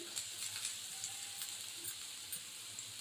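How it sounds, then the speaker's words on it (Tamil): Onions sauté in hot oil over medium heat for a potato and egg omelette, a soft, steady sizzle with occasional light crackles and stirring taps, fairly quiet. "எண்ணெய் நல்லா சூடாயிடுச்சு இப்போ வெங்காயம் சேர்த்துக்கோம் வெங்காயம் நல்லா வதங்கட்டும்"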